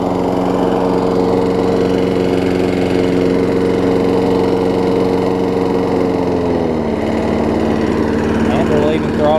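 Craftsman self-propelled lawn mower with a bagger, carbon buildup and long-unchanged oil, its small engine running steadily and loudly close by, a constant buzzing hum that dips slightly in pitch near the end.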